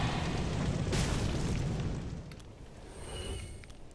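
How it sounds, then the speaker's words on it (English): Burning enemies in Dark Souls 3 explode in a heavy, rumbling game blast that rolls on and fades over a few seconds, followed by faint ringing debris tones. "we got a couple of guys who are going to burn, run, and explode"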